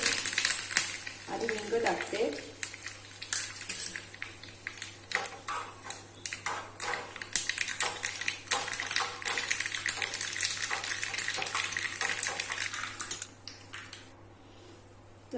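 Mustard seeds and curry leaves crackle and sizzle loudly in hot oil for a chutney tempering, a dense spattering hiss that carries on steadily before dying down near the end.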